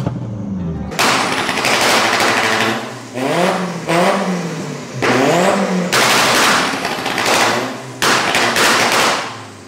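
A turbocharged Mitsubishi Xpander with a boost controller and anti-lag revs hard in several loud, close bursts, with sharp pops and bangs between the throttle blips.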